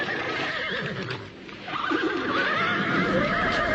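Horses neigh and whinny loudly as riders mount, with a drawn-out whinny rising over a steady background of hooves and outdoor noise.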